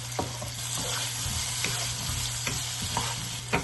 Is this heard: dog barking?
no